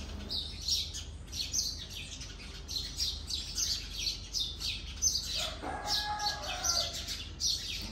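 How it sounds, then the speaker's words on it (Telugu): Small birds, house sparrows by a mango tree in the early morning, chirp in quick repeated bursts throughout, close and lively, with a brief lower call near the end. "ఉదయాన్నే 6 అలా టైం అయ్యేసరికి పిచ్చుకలు అవి చాలా బాగా ఎక్కువ వస్తాయి మామిడి చెట్టు దగ్గరికి, ఆరుస్తూనే ఉంటాయన్నమాట"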